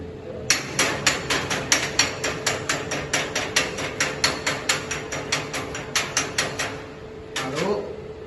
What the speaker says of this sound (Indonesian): dipukul menggunakan palu terak.